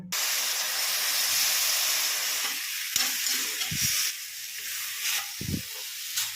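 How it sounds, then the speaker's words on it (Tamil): Apple pieces sizzle and hiss in hot ghee, a steady frying crackle broken by a few brief clinks and stirring knocks. "லேசாக நெய் விட்டு ஆப்பிள் வறுத்து எடுத்துக்கலாங்க"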